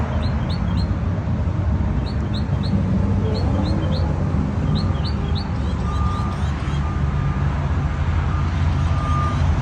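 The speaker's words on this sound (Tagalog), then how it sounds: "Marinig nyo yung sound ng ibon." Birds chirp in short repeated bursts over steady outdoor background noise at a statuary outlet in Waco, Texas, with passing traffic rumbling underneath.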